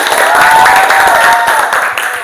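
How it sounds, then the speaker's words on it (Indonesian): Classroom students clap together in a second round of applause, a brief, steady burst of many hands that fills the room with no talk over it. "Sekali lagi tepuk tangan."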